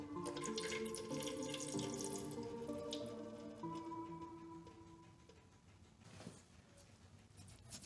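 Old coolant trickling and dripping from a detached hose at the bottom of a motorcycle coolant reservoir, a faint, steady watery splatter with light drips, alone with no talk.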